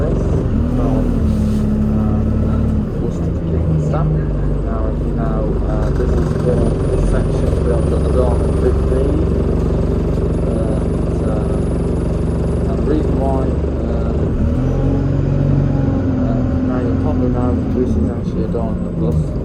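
A 294 service bus from Worcester to Kidderminster via Hallow, a 2021-built Class 300, hums steadily with engine drone and gear changes throughout, while someone talks over it.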